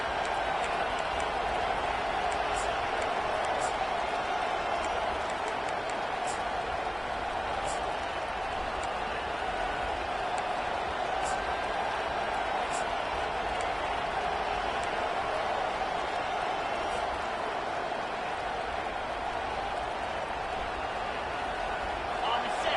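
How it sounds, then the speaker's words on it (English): A stadium crowd roars in the College Football 25 video game, a dense, constant wash of noise that runs throughout beneath a commentator's voice. "This crowd trying to make life miserable for this offense."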